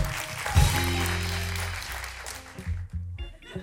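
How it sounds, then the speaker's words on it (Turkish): At a Turkish late-night talk show, a studio audience applauds a male guest after his song, a thick burst of clapping that swells early and fades over a low musical sting toward the end. "Beyefendiyi alkışlayalım lütfen."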